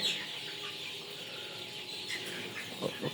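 Sonali chickens on a Bangladeshi poultry farm give soft clucks and chirps over a constant hiss of farm noise, with a few clearer calls near the end, fairly faint and without talking.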